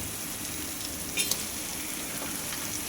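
Crabs frying with tomatoes and onions in a pan for crab curry hiss in a continuous close sizzle, with a couple of short clicks of stirring partway through.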